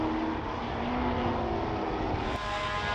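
A big 7-litre Chevrolet Corvette race car goes by on the Silverstone circuit at a classic racing meeting, its loud, deep engine roar carrying steadily throughout before falling off at the end.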